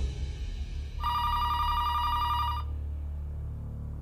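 A telephone rings with one steady electronic burst of about a second and a half, fairly loud over a low background hum, then stops.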